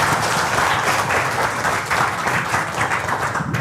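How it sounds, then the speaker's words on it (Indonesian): Steady, dense audience applause at a health-water product presentation in Indonesia, loud and sustained throughout without a pause. "Tepuk tangan."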